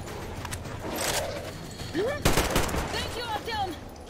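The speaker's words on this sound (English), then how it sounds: "just gonna shoot some bastards here" Bursts of gunfire in the post-apocalyptic shooter Metro Exodus, with sharp shots standing out around the middle amid busy game noise, while someone talks over the action.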